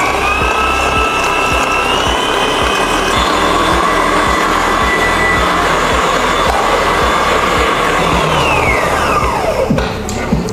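An electric mixer whips cake batter ingredients for a black velvet cake with a loud, continuous mechanical whir, a rapid rattling pulse underneath and a whine that drops away as the mixer slows near the end.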